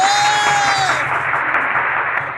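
A crowd claps for a grandmother and her grandchild dancing together at a school song activity, a steady dense wash of applause throughout with a brief whistling tone at the start.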